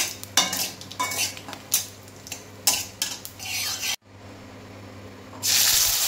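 Whole cumin seeds stirred in hot oil in a pan bring repeated scraping strokes of a spatula against metal in an uneven rhythm, then a pause and a soft sizzle.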